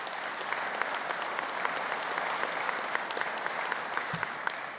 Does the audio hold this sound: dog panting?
no